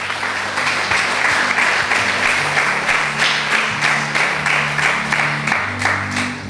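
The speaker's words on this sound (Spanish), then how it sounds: "Denle un aplauso a Jesús bien fuerte" Sustained audience applause, dense and steady clapping from a large crowd filling the whole stretch, loud and close.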